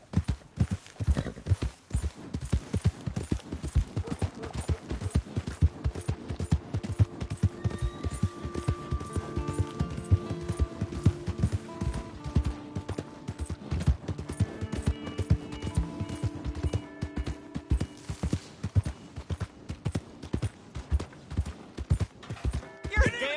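Galloping horse hooves in Red Dead Redemption 2 pound in a steady, continuous beat for the whole stretch, with occasional whinnies and voices speaking over the hoofbeats.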